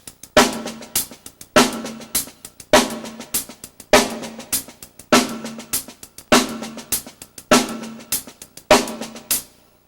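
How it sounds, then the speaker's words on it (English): A drummer plays paradiddles in sixteenth notes with accents on every quarter note, loud regular accented hits standing out over quieter ghosted strokes in a steady repeating groove, close and with no voices. "I'm going to accent all the quarter notes. We're playing 16th notes, and it'll sound like this"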